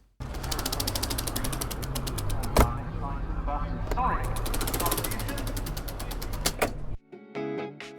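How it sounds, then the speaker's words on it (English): Side door of a Puma HC Mark II helicopter being operated: a continuous clattering, ratcheting mechanical rattle with a sharp clunk midway and a final thud as it stops, near and fairly loud. "That was the sound of the side door being operated on a Puma HC Mark II."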